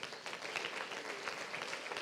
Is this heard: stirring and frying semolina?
no